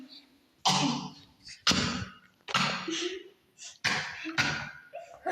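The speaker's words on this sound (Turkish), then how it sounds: "ne biçim öksürdüm be?" Several harsh, loud coughs in a row, close up, separated by short pauses and breaths.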